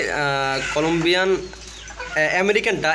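American Brahma chickens clucking in a run of close, harmonic, rising-and-falling calls with a brief pause in the middle, fairly loud and near.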